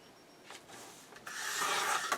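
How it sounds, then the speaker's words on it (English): Paper being trimmed during a card-making project, a close, soft rasping slide that builds into a louder continuous scrape in the second half, with no talking. "We will just trim off the top just a smidge"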